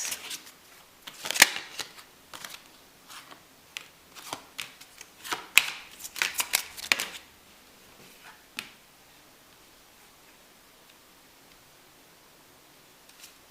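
Tarot cards being shuffled by hand, a rapid flurry of crisp riffling slaps and flicks for several seconds, then a few scattered taps before fading into quiet room tone.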